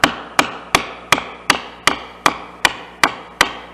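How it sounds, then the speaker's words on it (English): A hammer taps a chisel into wood while hand-cutting dovetail tails, ten sharp even strikes in a steady rhythm, close and crisp with short decays and no speech. "I'm going to take my hammer and just gently tap down."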